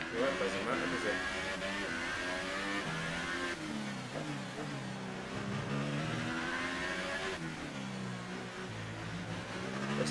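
F1 race cars in the F1 2018 video game at Azerbaijan accelerating after a safety car period, engines revving in rising and falling sweeps under a continuous commentator voice.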